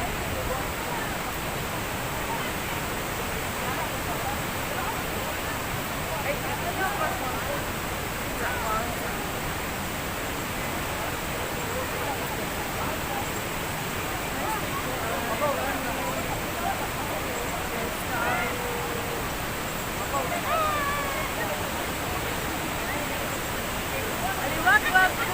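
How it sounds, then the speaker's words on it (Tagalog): Aliwagwag Falls waterfall gives a steady, broadband rush of falling water that holds even and continuous throughout, dense and close with no pauses. "Aliwagwag Falls."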